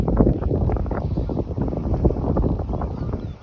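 Strong wind buffets the microphone on a golf course at the 9th hole of the Royal Thai Navy course in Salaya, a loud continuous rumbling gusty roar with no clear voices.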